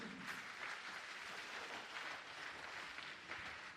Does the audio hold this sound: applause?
yes